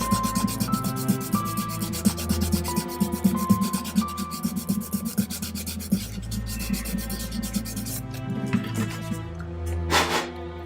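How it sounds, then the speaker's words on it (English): A sanding stick rubs a small scratch-built plastic model vent part in quick, steady back-and-forth strokes, close and fairly loud, easing off near the end. "I'm just going to give that a sand."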